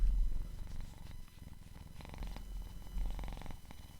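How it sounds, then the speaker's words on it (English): A cat purrs close to a microphone in a quiet room, a steady low rumbling purr that rises and falls with its breathing, heard alone with no talking. "Well, you might hear some purring."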